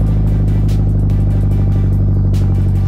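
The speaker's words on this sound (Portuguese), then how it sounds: "Mas tá com barulho bonito, né, mano? Tá com barulho bonito esse carro." A Nissan Silvia engine roars loudly and continuously, held at high revs with a rough, throbbing drone close by.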